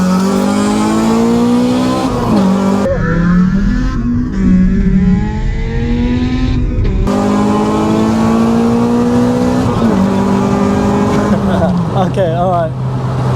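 A Honda Civic EP3 Type R and an Audi Q3 TFSI race side by side. A loud engine revs hard and climbs through the gears with rising whines and sharp drops at the shifts, over a constant roar, with voices talking over it.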